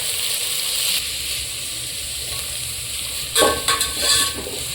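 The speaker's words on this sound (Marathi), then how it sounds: "कांदा आता चांगला लाल होईपर्यंत परतून घ्यायचा" Chopped onion fries in a pan with oil and homemade desi ghee for a spicy chicken pulao, giving a steady close hiss and sizzle. Brief scraping stir sounds come near the end.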